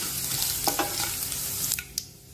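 Urad dal and chana dal roast in a pan, making a continuous dry sizzling hiss with a few distinct scraping stir strokes and clicks, close and steady, without speech.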